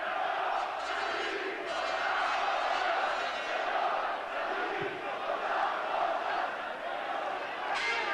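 A basketball arena crowd at a 1991 Kingston versus Aris Salonika game roars and chants in a sustained wall of noise, stirred up by the Kingston bench, loud and continuous with shouting voices blended into the din.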